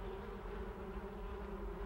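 Honeybee buzzing steadily close by while working blooming flowers, a continuous droning hum with no voices.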